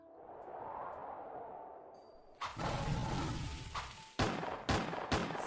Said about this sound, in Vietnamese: Ba tiếng súng liên tiếp lại một lần nữa làm kinh động ngôi làng nhỏ